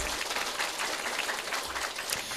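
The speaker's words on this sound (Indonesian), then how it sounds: "Tepuk tangan dulu dong buat panitianya." Steady applause from an audience at an Indonesian religious lecture gathering, a continuous wash of clapping for the organizers, fairly distant and even.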